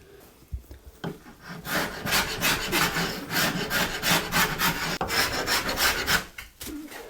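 An IKEA cabinet panel scribed to the wall is trimmed by hand, a rough rasping, sawing scrape in steady back-and-forth strokes, close and continuous for several seconds with short pauses at start and end.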